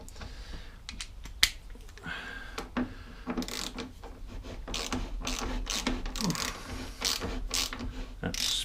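A 13 mm spanner spins a nut out on a Mountfield S421R lawnmower, giving quick ratcheting clicks and small metallic ticks close up, with faint background hum and no talking.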